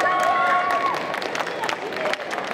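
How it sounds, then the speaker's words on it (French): A convention crowd at a cosplay event in Saint-Étienne applauds the jury, a broad, steady wash of clapping and cheering that fills the room. "Merci à notre jury, vous pouvez l'applaudir."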